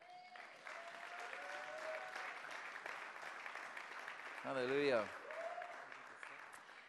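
A church congregation breaks into steady applause that carries through, with a voice speaking over it and a brief sung or called exclamation near the end.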